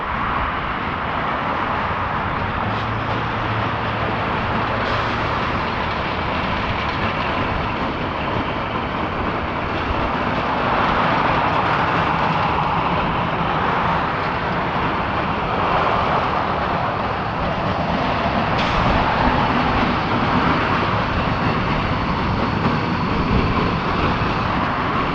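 Freight locomotive Extra 51 rolls steadily down the tracks near Norristown, a continuous broad rumble and rail noise holding at a constant level for the whole stretch with no voices.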